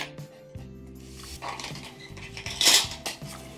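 A metal dish is set down and handled on a workbench while servicing an old German Württemberg pin pallet clock movement, with light clinks and one brighter metallic clatter near the end, close and fairly quiet.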